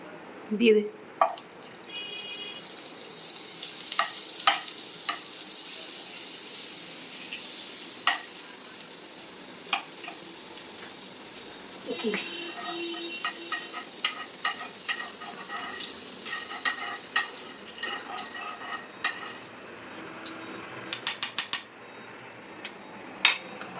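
Chicken fries in butter in a pan with a steady soft sizzle, punctuated by frequent clinks and scrapes of a utensil against the pan, with voices talking at times over the cooking.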